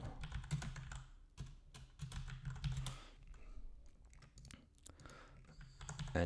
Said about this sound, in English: Now I'm going to make them into a block just by typing block.